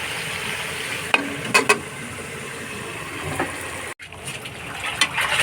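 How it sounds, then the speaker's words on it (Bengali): Chicken curry with potatoes and pointed gourd is stirred in a pan, with a few scraping strokes of the spoon over a soft, steady sizzle close by. "আমি আরেকবার একটু নেড়ে দিচ্ছি নিচে যেন লেগে না যায়"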